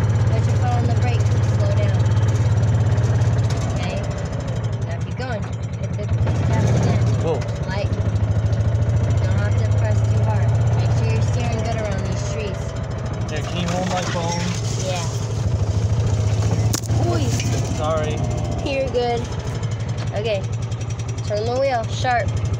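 A car engine hums steadily while driving slowly around bushes, held low and even throughout under a person giving driving instructions.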